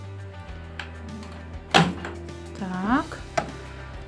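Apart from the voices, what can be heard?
opening the door of a Sharp R200WW microwave oven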